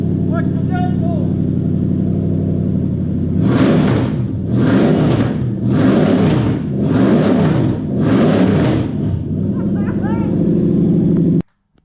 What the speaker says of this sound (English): There's dirt falling off that truck when I rev the engine.